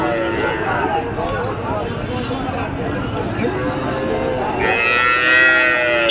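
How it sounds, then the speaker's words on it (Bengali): Sahiwal and Friesian calves moo loudly and repeatedly at a busy cattle market, close by, over a background of crowd chatter. "দেখেন খুবই চমৎকার শাহিওয়াল এবং ফ্রিজিয়ান বাছুর।"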